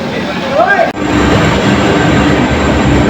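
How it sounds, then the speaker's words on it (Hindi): Train pulling into a busy Indian railway station platform on the Sri Ganganagar via Loharu route, a loud steady rumble and rolling roar close by after a brief announcement-like tone, with no pauses. "सच्ची में ट्रेन आ गई गाइस"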